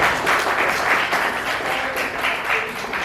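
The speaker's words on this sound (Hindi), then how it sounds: "तो एक बार डॉक्टर शशि तिवारी के लिए जोरदार तालियां हो जाए।" Audience at a Hindi book launch and spring poetry gathering clapping for a speaker, a steady dense burst of applause heard alone for a few seconds.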